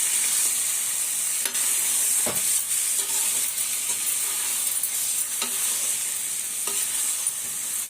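Boiled chicken pieces fry and get stirred in a pan, a steady loud sizzle running throughout with occasional spatula scrapes and knocks, no voices.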